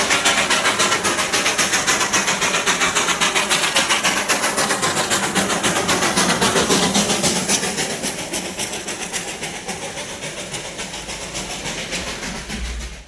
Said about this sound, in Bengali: স্টিম ইঞ্জিনের টয় ট্রেনের আওয়াজ।